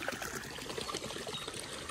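Spring water runs out by itself near Bhulke Mahakali Mandir in Salakpur, a close, continuous trickling burble with small splashy bursts throughout and no talking.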